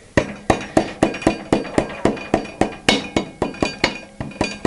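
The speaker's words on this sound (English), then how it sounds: "Give the axle a little bit of assistance with a rubber mallet." Rubber mallet tapping the front axle into a Triumph Tiger 955i wheel, about twenty sharp, evenly spaced knocks with a faint metallic ring, close and steady.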